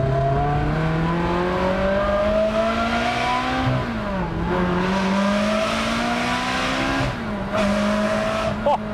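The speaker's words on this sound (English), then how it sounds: "all you can really pay attention to is that engine behind your head" A loud Ferrari 360 V8 engine roars close behind the driver's head, revving and pulling through gears with rising pitch and brief dips at each shift.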